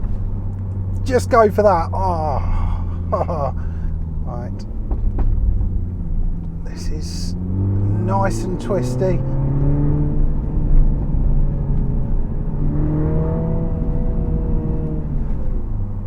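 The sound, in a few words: modified Mini Clubman JCW engine noise while driving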